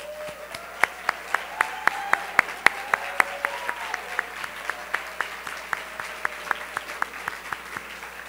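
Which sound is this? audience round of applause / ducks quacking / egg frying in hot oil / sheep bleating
audience round of applause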